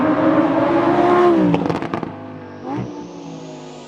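A 2020 Lamborghini Huracan EVO accelerating hard from 0 to 60 mph, its loud engine note climbing steadily, then breaking through rapid gear shifts before a brief renewed rise and fade.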